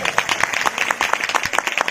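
A congregation claps at a church sermon in quick, regular rhythmic bursts that carry on steadily, with voices mixed in underneath.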